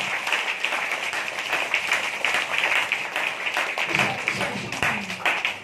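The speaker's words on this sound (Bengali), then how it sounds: "জোরসে সেই বাবার জন্য একটা করতালি দিন" A church congregation applauds in a dense, steady wash of clapping that runs the whole time, with a voice briefly heard over it near the end.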